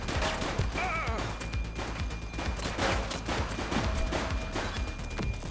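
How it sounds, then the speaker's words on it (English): Rapid bursts of police gunfire in a shootout in the video game The Precinct, dense and continuous over a music bed, with shots overlapping throughout. "Shots fired!"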